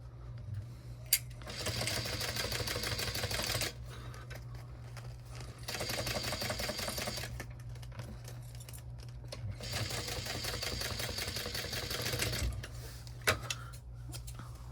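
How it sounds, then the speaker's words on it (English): A sewing machine stitching down a small fabric bow, running in three bursts of rapid, even mechanical clatter with brief pauses between them. "we're going to go ahead and sew this down"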